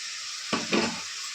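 Chopped tomatoes drop into a hot oiled pan with curry leaves for chicken kulambu, giving a sudden close sizzle and a brief stir before settling back to a quiet, steady fry.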